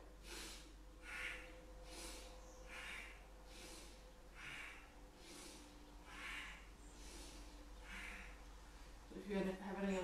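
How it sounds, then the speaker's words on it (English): Deep breaths in and out during a mindful movement session, a steady rhythm of soft, close, airy breaths about every second or so over a faint low hum, ending with a brief rustle. "Inhale, exhale, inhale, exhale,"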